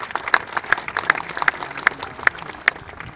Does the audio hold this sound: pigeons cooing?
no